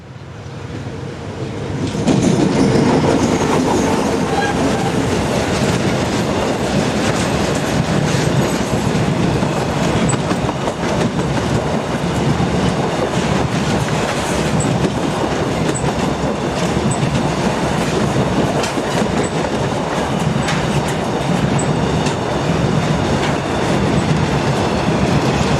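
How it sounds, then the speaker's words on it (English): A meter-gauge diesel train on a non-electrified line rolls past close by on the outskirts of Oviedo, Spain, with a steady rumbling roar and rhythmic clickety-clack of wheels on rails, sustained for a long stretch. "Here a train is seen on the outskirts of Oviedo."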